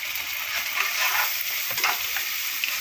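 Turmeric and chili powder sauté in hot oil in a pan, giving a dense, even sizzle with occasional soft stirring scrapes, close and steady throughout.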